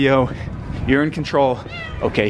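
Cats meowing repeatedly in a New York City apartment, several close, loud mews in quick succession overlapping with a person talking.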